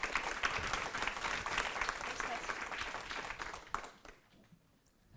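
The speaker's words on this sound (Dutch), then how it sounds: "Mag ik een daverend applaus" A crowd applauds steadily for about four seconds, then the clapping thins out and fades to near silence.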